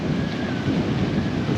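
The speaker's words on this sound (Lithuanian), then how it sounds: "įsipūtė stiprus vėjas netikėtai" Strong, sudden wind gusting outdoors by a lake under an approaching storm cloud, a steady broadband rush buffeting the microphone throughout, with no talking.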